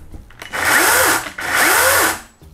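A Dedra 18V cordless chainsaw whirs up loudly twice in close succession, each burst a high electric motor whine that holds briefly and then drops away.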